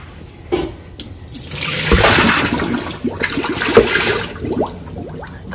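Puffed rice being washed in water, with splashing, swishing and trickling water in a close, steady wash that swells and fades over a few seconds, and no talking.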